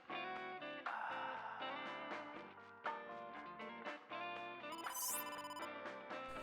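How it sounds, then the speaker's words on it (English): A phone ringing in the video game AI: The Somnium Files, an electronic ringtone chiming repeatedly over layered game music, with a bright rising electronic sweep near the end. "The phone is ringing."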